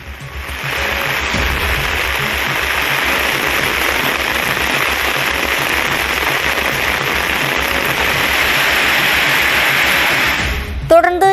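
Heavy rain pours down in Chennai as a dense, loud, steady hiss that persists unbroken for several seconds before cutting off abruptly.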